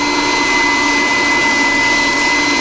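An old vacuum cleaner runs steadily, a loud, constant whining roar with a high tonal hum held throughout, close and without talk.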